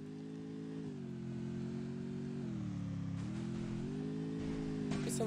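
A video game motorcycle engine hums steadily at moderate volume, rising slightly in pitch toward the end as the throttle opens, with a faint clatter at the close.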